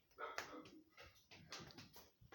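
A dog outside a house gives several short, faint barks and yips in quick succession, heard from some distance.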